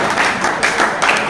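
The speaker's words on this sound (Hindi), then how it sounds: "जोरों से तालियां बजा भाई" Audience clapping at a pigeon-flying tournament prize distribution, a short burst of steady, fairly loud applause from a crowd with no talk over it.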